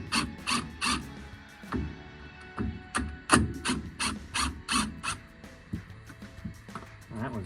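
A big socket wrench ratchets on the front brakes of a 1979 MG Midget 1500, sounding as repeated bursts of sharp metallic clicks in an uneven rhythm, close and loud, with brief pauses between strokes.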